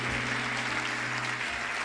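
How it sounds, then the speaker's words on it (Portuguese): Church congregation applauding together in a steady, dense wash of clapping, with a sustained low tone running underneath throughout. "Você pode aplaudir o Senhor."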